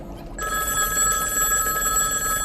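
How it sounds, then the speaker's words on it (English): A classic telephone bell rings continuously after a brief quiet start, a loud, steady, bright metallic trill with no talk over it. "A ringing phone."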